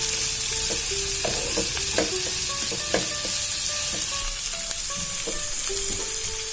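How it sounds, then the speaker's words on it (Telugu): Green chillies and curry leaves frying in hot oil for a tomato capsicum curry, a steady close sizzle with scattered pops and crackles, stirred now and then, running throughout with no talk. "ఇప్పుడు కరివేపాకు వేస్తున్నానండి. ఇదంతా దోరగా వేగాలి."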